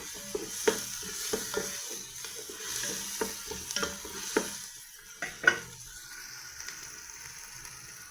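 Meat hits a hot pan of browned garlic and onion for kabsa, giving a quiet sizzle broken by repeated spatula clacks and stirring scrapes, close by, ending in a louder burst and a softer steady fry.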